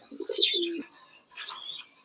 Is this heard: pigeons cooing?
yes